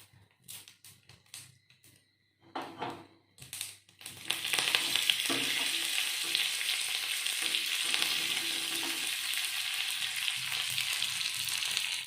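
Mustard seeds pop in short bursts, then curry leaves hit hot oil for a beetroot gojju tempering. A loud, dense crackling sizzle follows and carries on steadily, close up.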